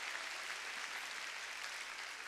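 Congregation applause during a Sunday church service, a steady, even wash of many hands clapping, faint and distant throughout.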